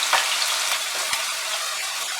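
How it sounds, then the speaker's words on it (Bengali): Potato, pointed gourd and pumpkin fry over high flame in mustard oil, a dense, even sizzle with a few soft stirring knocks close by. "তেলটা গরম হয়ে গেলে আমি সবজিগুলোকে একটু ভেজে নেব।"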